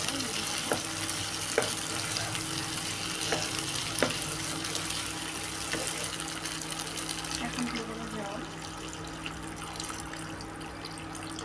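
Chopped onions frying in a pan for Bengali-style chili paneer, a steady sizzle with occasional stirring scrapes and faint background voice.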